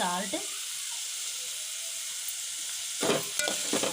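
Curry leaves and onions frying with salt in a pan for a paneer bread sandwich, a steady soft sizzle and hiss throughout, with a brief voice near the start and louder stirring clatter near the end.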